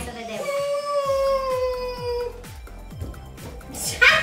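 A cat meows in a children's TV show, a long sliding meow heard over rhythmic background music and other sounds.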